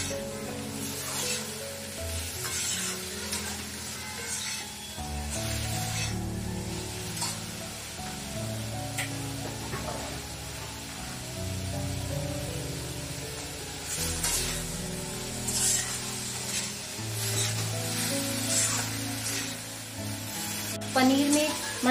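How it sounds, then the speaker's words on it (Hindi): Achari paneer and capsicum sizzle steadily in a pan while being stirred, with a loud continuous frying hiss, occasional spoon clinks and scrapes, and faint background music throughout. "मिक्स करेंगे अच्छे से।"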